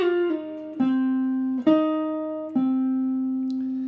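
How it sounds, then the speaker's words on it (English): A slow jazz-style blues phrase from a solo, with four sustained plucked notes: each rings out and slides in pitch before the next attack, played alone with no talking. "this is a complete blues phrase but delivered in a jazz style"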